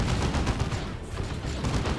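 Sustained heavy suppressing fire from an Ork Death Gun in the strategy game Dawn of War 2, a continuous rattling barrage of dense rapid shots with booming low rumble, loud and unbroken.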